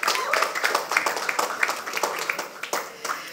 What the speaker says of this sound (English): Ladies and gentlemen, a big round of applause for our esteemed partners and